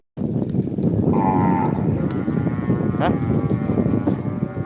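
Water buffalo lowing at a Thai farm or market, a drawn-out harmonic moo rising from about one second, with an outdoor background of murmuring voices and a steady crowd din throughout.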